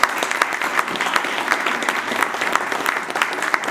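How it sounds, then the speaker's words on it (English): Steady, fairly close audience applause honoring students at a new school's dedication ceremony, continuous clapping with no pauses throughout. "So let's give our kids a round of applause."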